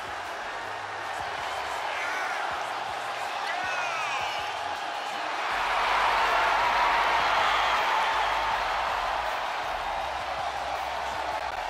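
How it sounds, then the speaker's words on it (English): Ovation from the crowd at a WWE SmackDown wrestling event, a sustained roar of cheering that swells in the middle, with commentators talking over it. "Listen to this ovation"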